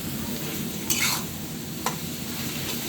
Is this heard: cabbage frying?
yes